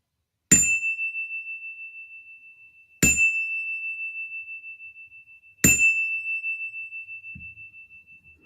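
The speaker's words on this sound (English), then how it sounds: "I just love the little bell at the end of my practice." A small meditation bell is struck three times at even intervals, each clear ring sustaining and slowly fading before the next, alone in a quiet room.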